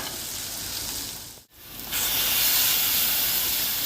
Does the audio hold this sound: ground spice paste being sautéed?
yes